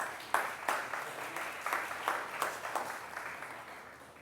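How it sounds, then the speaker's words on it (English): A school audience applauding a student at an award recognition: steady, moderately faint clapping from many hands, sustained throughout with irregular sharper claps standing out. "Somebody stood up and clapped and even gave a little bit of a shout"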